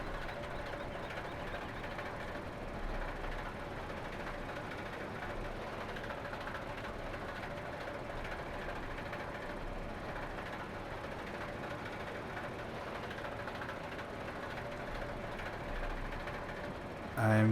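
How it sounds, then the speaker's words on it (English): A mower runs in the video game Farming Simulator 15, a steady droning engine hum that stays even and fairly faint throughout, with no clear speech. "Turn on mower."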